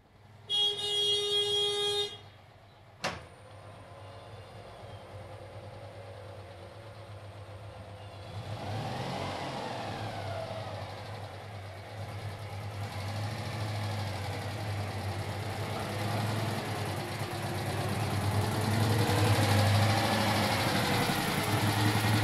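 A short car horn toots, then a Citroën 2CV's small engine idles and pulls away, its buzzing drone gradually growing louder as it drives.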